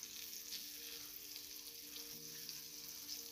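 Floured liver frying in a pan gives a continuous close sizzle and crackle, steady and fairly quiet, with a faint hum beneath and no voices.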